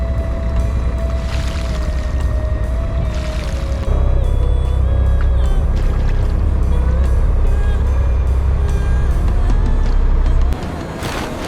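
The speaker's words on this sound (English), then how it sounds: "The old-fashioned, rusty metal winch system with its enormous flywheels began to rumble and spin" An old rusty metal winch with enormous flywheels rumbles and spins aboard a giant squid fishing boat off Peru, a loud, continuous mechanical drone with a faint whine that swells midway and then drops off near the end.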